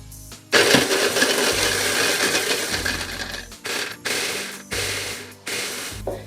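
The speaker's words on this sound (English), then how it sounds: "Let this blend first, then I'll add the rest of the ingredients." A blender grinds garlic, three green chilies and a small piece of fresh ginger in a long, loud churning run, then several shorter pulses with brief pauses between them.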